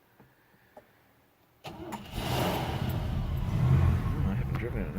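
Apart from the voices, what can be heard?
1959 Cadillac sedan engine starting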